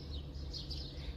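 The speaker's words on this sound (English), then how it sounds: "the sound of the birds" Birds chirp softly outside a resort room at Abu Simbel in Egypt, a few faint high tweets over quiet background hiss in a brief moment.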